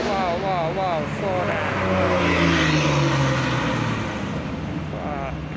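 A fast Porsche sports car roars by with a rising, revving engine note that swells loud and then eases off, backed by steady road and wind noise.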